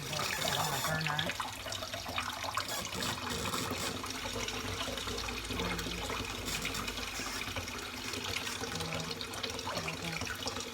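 Tap water runs steadily into a sink for the full stretch while a cat is being washed, a continuous loud broadband splash and hiss with no clear pauses.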